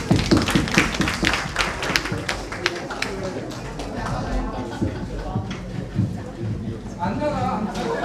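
Audience applause welcoming a presentation at a public citizens' forum on household waste and incineration facilities, dense steady clapping running throughout, with some voices mixed in.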